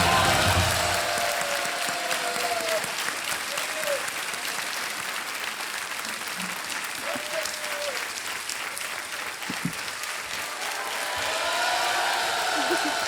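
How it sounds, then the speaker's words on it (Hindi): Studio audience applauding on the Hindi quiz show KBC (Kaun Banega Crorepati), a dense sustained clapping that fills the whole stretch, swelling again toward the end with a host's voice faintly underneath. "तालियां बजाएं इनके लिए।"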